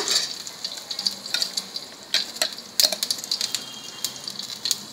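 Garlic fries in a pan for curry leaf chutney, a close, steady sizzle dotted with sharp crackles and pops, with no talking.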